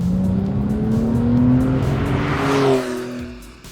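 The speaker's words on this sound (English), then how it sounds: "the rear-mounted flat 6 can always be heard, even when cruising" A 2018 Porsche 911 Carrera T's rear-mounted flat-six engine drones steadily from inside the cabin while cruising, its pitch rising gently before the revs ease off and the sound drops away.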